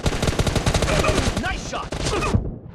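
Rapid video game gunfire bursts loudly and densely in a team match, with layered automatic shots and a few game effects before cutting off abruptly.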